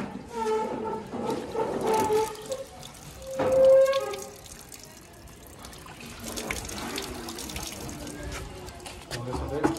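Water splashes and trickles as it is poured into an NS 200 motorcycle radiator after the coolant is drained, gurgling unevenly, with a voice speaking over the sound of the liquid.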